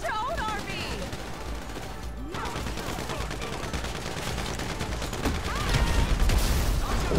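Gunfire in the GTA Online video game, with rapid bursts of automatic shots and scattered single cracks over game ambience, growing louder toward the end.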